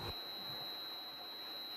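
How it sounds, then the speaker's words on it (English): During a store robbery, an alarm holds one steady, shrill electronic tone at a constant, moderate level, with no talk. "then the alarm starts blaring, and then they run out"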